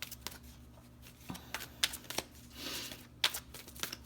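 Wisdom oracle cards being shuffled by hand, a series of close, crisp riffling and slapping bursts with brief pauses between them.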